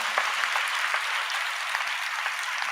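A church congregation at a sermon claps together in a dense, steady burst of applause that holds at an even level throughout, with no pauses.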